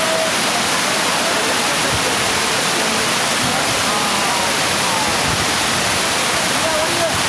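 Rushing water current at Bhushi Dam in Lonavala, a steady broadband roar of torrent and spray that fills the whole scene, loud and continuous with no break.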